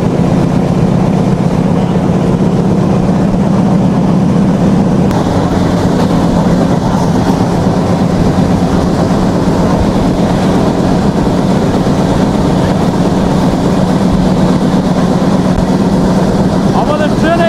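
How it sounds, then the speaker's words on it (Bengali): The Jahanabad Express from Khulna to Dhaka rumbles along its rails near Gopalganj at speed, a loud, continuous low roar and clatter heard from onboard with no voices. "আমাদের ট্রেন এই মুহূর্তে ধূপবাদ যাচ্ছে মহেশপুর রেলওয়ে স্টেশন"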